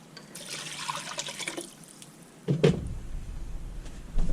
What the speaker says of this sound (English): And I've got 5 cups of water.